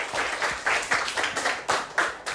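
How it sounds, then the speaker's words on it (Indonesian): A class of seventh-grade pupils claps together in a classroom, a short burst of hand claps with uneven peaks, moderately close and fairly quiet, with no one talking over it. "Tepuk tangan untuk kita bersama"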